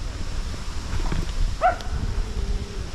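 A single short dog bark, fairly distant, rises briefly over steady wind and rustling along a trail toward a waterfall in Bicol.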